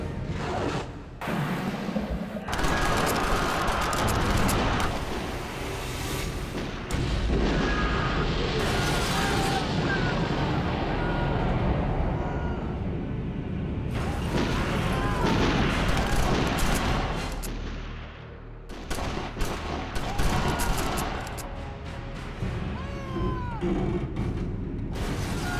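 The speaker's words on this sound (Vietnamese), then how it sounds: "Bắn về phía người rơi xuống nước." Gunfire and heavy booms rage through a Chinese naval war film battle at sea, with loud, dense volleys and blasts running almost continuously, mixed with voices and dramatic sound.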